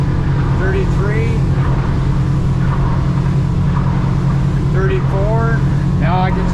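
Outboard motor on a 2025 Defiance 26 boat with twin F200 engines, accelerating across water; a steady loud engine drone fills the clip, with talk over it.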